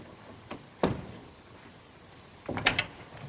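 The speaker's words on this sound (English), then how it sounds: "Shut the door." An interior door is pushed shut with a firm thud near the start, followed a couple of seconds later by a cluster of knocks and rattles as it settles, over a quiet room.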